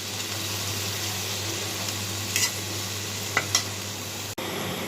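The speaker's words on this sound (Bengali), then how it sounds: "ট্যাংরা মাছটা আমার হয়ে আসছে এখন ধনে পাতা দিয়ে দিলাম" Tengra fish frying in a pan with coriander leaves, a steady low sizzle throughout with a few faint stirring clicks and a short break near the end.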